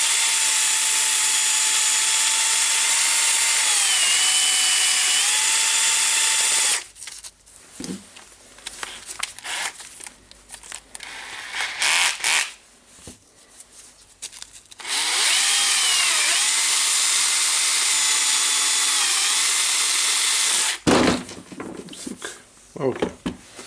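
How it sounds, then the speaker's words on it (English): A drill spins a Makita impact driver armature while sandpaper cleans it, a steady loud whine in two long runs with quieter handling and scraping noises between. "The easiest way to do that is to put the armature to the drill"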